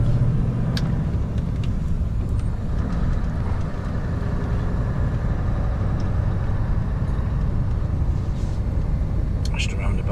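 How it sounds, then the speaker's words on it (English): A car's engine rumbles steadily up close as it drives slowly and pulls in to park at a landfill site, a constant low drone throughout with someone talking over it. "I just park in front of that car"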